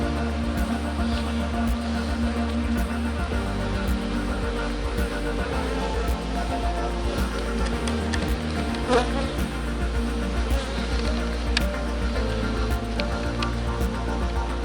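Honey bees buzz around a farm beehive in a dense, continuous drone close to the microphone, with individual insects whizzing past now and then and faint voices underneath.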